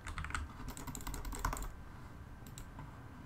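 Computer keyboard arrow keys pressed in a quick, dense burst of close clicks, then a pause and a couple more taps over quiet room noise.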